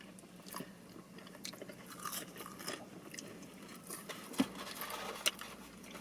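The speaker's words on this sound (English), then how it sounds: "about to try their fries" Someone eating KFC fries, with soft crunching and chewing close to the mic, irregular bites over a faint background and one or two sharper crunches.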